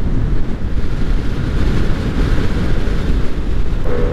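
Heavy wind roars steadily into the microphone while riding a motorcycle along a bypass road, a loud, continuous low rumble with no talking.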